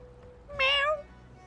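A baby creature in a fantasy pirate video game lets out a single short, bright meow lasting about half a second, standing clearly above a quiet, low background hum.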